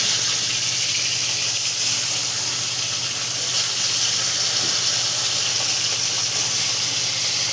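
Tilapia fish frying in hot oil gives off a loud, unbroken crackling hiss that stays even and constant throughout, close up and free of speech.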